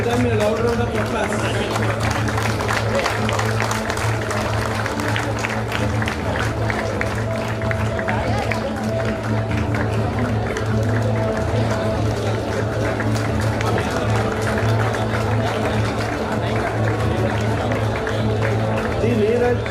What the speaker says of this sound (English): Dasari Bharat, D. Ramu, D. Yochana, give them a loud round of applause.